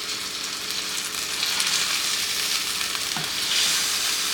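Steady, loud sizzling of burgers frying in a pan, a constant crackling hiss with no talking.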